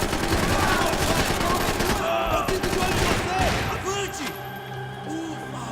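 Guns roar steadily in a Max Payne 3 firefight, with heavy, continuous bursts of shots that ease slightly toward the end as someone talks over the noise.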